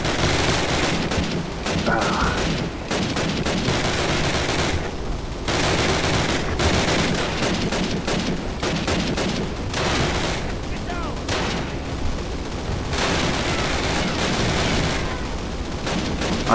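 Dense gunfire from a Call of Duty match, with bursts of rifle and machine-gun shots rattling almost nonstop and loud, near and far, while a player's voice talks over parts of it.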